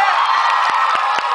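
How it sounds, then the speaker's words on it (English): Theatre audience cheering and whooping at a Shakespeare talk, a dense, steady roar of voices with a few sharp claps cutting through, loud and sustained throughout. "I'm so amazed that gets a cheer."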